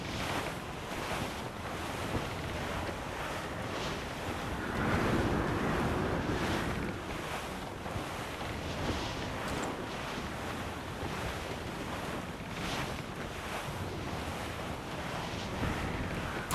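A sailing ship in the Assassin's Creed IV Black Flag video game moves under steady wind, with surf and waves roaring continuously throughout, broad and loud with gentle swells and no voices.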